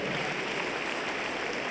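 An audience at a big televised song contest gives sustained applause, a thick, even wash of clapping that fills the hall without a break.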